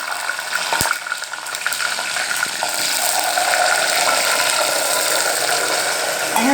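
Onions and garlic sizzle loudly in a hot pan with mustard seeds and fenugreek, a steady close hiss and crackle that swells and stays dense throughout with no talking.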